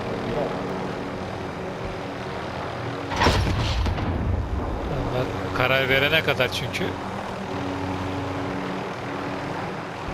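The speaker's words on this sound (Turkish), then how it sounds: "Böyle park edilir helikopter." In a Call of Duty Warzone match, a helicopter's engine and rotors set down with a loud whooshing thrust burst, then a second rotor surge follows, while players talk over the game sounds throughout.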